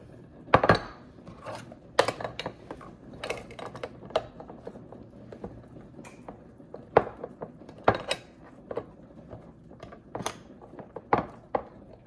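Plastic lids snapped onto food containers during weekly meal prep, a series of sharp clicks and clacks in an irregular rhythm, close and fairly crisp, with no talking.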